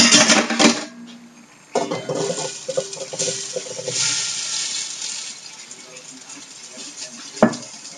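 Tomato soup crackling and sizzling in a pot, a steady close hiss with bursts of spitting and clatter, brief clinks of utensils near the start and a sharp knock toward the end.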